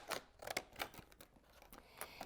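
Scissors cut out a shape for a homemade kaleidoscope, making a faint series of quick snipping and crinkling sounds in an irregular rhythm, close by and quiet.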